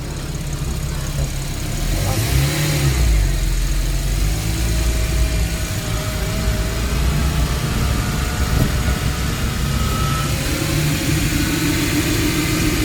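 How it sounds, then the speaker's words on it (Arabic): Porsche Cayman S engine running loud and steady with its bay uncovered during a rebuild of the wrecked car, a continuous low rumble close by that swells slightly at times, with no talk over it. "طبعا الصوت عالي جدا لان المكنه زي ما احنا شايفين مكشوفه لسه مش متغطيه"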